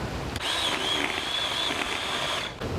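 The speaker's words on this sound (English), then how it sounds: "the chainsaw is struggling" Ryobi 10 inch battery chainsaw with an overheated battery, struggling as it runs: a steady electric whine with a thin high tone held for about two seconds before it cuts out.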